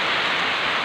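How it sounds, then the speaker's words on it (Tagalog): Heavy rain pours onto a house in a dense, steady hiss, loud and unbroken throughout the short moment. "Grabe po ang lakas ng ulan."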